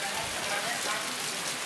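Heavy rain pours down in a dense, steady hiss that fills the whole moment, close and unbroken, with a voice faintly mixed in.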